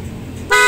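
A Honda ADV160 scooter horn wired through a custom harness with integrated relays gives one short, loud, close beep that cuts in sharply after a low idle rumble.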